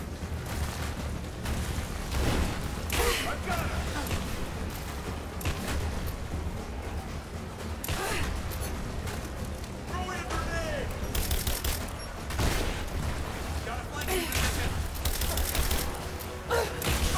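Sustained bursts of suppressing gunfire in the video game Tomb Raider, rapid volleys and rattling shots repeating steadily throughout, with voices calling out over the shooting.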